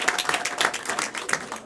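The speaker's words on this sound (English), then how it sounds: "Clap for Rebecca." Audience clapping at a live event, a short, loud burst of many hands with a distinct, irregular patter of individual claps.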